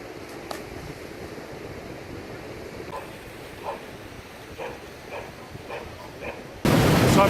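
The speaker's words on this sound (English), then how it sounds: "So I'm right here by the main waterfall at Ellis River" A steady, distant rush of water from the main waterfall on Ellis River, Vancouver Island, fills the background, then jumps to a loud, close roar in the final second.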